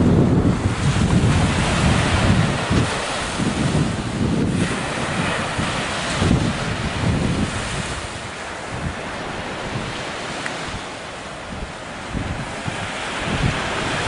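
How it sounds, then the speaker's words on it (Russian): Waves of the Mediterranean Sea break on the shore amid strong gusting wind buffeting the microphone, a loud continuous roar with surging swells and no talk. "Средиземное море."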